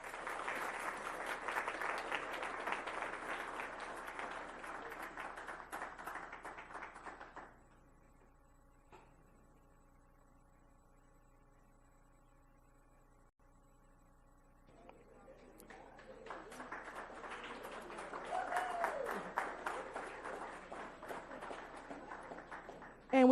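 An evening school board meeting audience gives a round of applause for the district's school counselors, in two bursts of steady clapping separated by a quiet pause of about seven seconds.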